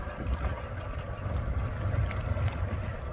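An old 29-year-old Sea-Doo personal watercraft engine runs steadily on a river, a continuous low rumbling drone close to the microphone with some wind noise, running on old fuel and smoking.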